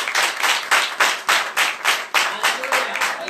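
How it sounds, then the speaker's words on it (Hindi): Loud, steady applause from a church congregation at a Palm Sunday meeting, with rhythmic bursts of clapping filling the room throughout. "सारे अपने आप के लिए जोरदार ताली बजाएंगे"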